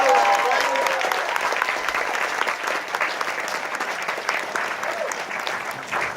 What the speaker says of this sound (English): Give a big round of applause to our cast crew.